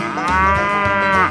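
A cartoonish cow from a 3D animal video game gives one long, loud, drawn-out moo that holds steady for over a second and then tails off, with no talking over it.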